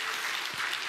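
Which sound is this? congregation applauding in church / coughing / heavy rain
congregation applauding in church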